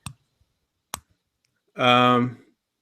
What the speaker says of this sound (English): if I continue to push it out, you can hear that clicking sound.